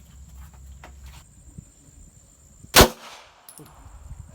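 A single loud, sharp gunshot cracks at a firing range, standing alone against a quiet background with faint ambient noise before and after.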